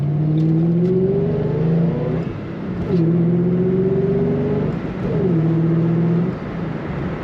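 A supercharged 2007 Ford Mustang Saleen S281 convertible with a manual gearbox accelerates hard through three pulls, its engine note climbing in pitch and dropping at each gear change, loud and close with no talking.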